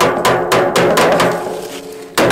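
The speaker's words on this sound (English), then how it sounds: "sorry, use the hammer here." Sharp hammer blows ring out while a drum-style water pump is assembled by hand, roughly five or six loud close strikes in an uneven rhythm, each with a short metallic decay.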